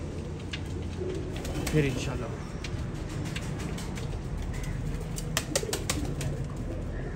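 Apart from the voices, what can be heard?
pigeons cooing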